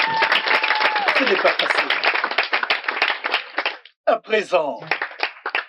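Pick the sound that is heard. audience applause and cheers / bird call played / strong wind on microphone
audience applause and cheers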